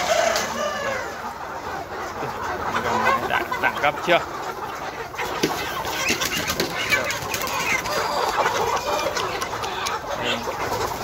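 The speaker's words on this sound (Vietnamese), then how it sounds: "Con gà mái nè" Hens of a native chicken flock cluck and call among rustling and wing flaps outdoors, with someone talking over them throughout.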